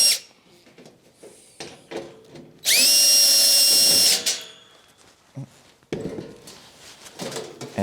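A power drill spins loudly for about one and a half seconds while removing screws from a Hauslane UC-PS38 under-cabinet range hood, bracketed by clicks, rattles and handling noises before and after.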